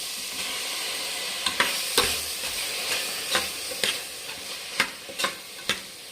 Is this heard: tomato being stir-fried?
yes